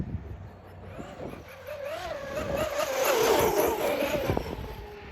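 A Traxxas Sledge RC truck's electric motor whines and revs under partial throttle, rising and falling in pitch as it surges, with tire and terrain noise outdoors.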